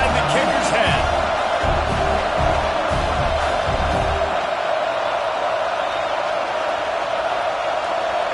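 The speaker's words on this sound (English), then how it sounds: "This crowd trying to do its part to get inside the kicker's head." A large stadium crowd at a college football game roars during a field-goal attempt, a broad, distant wall of noise that swells and then fades, with a commentator talking over it.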